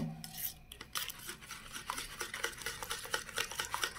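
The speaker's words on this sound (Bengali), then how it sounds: "এবার এটাকে ভালো করে মিশিয়ে নেব" Chicken marinade with shahi garam masala, lemon, salt, chilli powder and food colouring stirred by hand in a bowl, giving a steady run of soft clinks and wet scraping strokes up close, with no talking.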